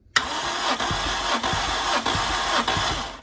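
A 1.3-litre Toyota 4E-FE engine in a 1998 Corolla E11 cranks on the starter during a compression test, with rhythmic whirring compression pulses repeating about every 0.6 seconds, loud and close.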